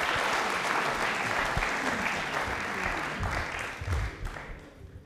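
A studio audience on a Rajasthan quiz show claps in steady, dense applause that stays loud, then thins and tapers off near the end.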